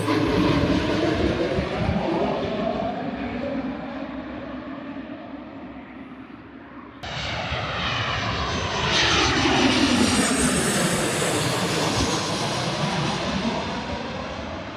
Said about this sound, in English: It's an itty bitty little plane. Look how small it is.